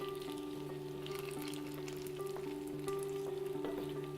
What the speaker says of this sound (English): Already starting to sizzle